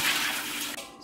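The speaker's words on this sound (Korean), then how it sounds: "물을 2리터를 붓습니다." Two liters of water are poured over cut napa cabbage to brine it for kimchi, a loud, close, continuous gush that cuts off abruptly near the end.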